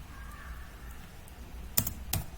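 A few quiet, isolated keystrokes on a computer keyboard, two sharper clicks near the end over faint room hum, no talking.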